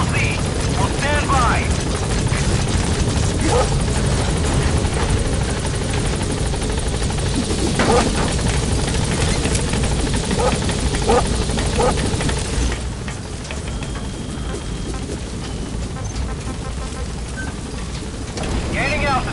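The Pequod helicopter in Metal Gear Solid 5 arrives at a landing zone with loud, close, continuous rotor thrum and wash that eases slightly near the end, under radio-style voices and brief game effects.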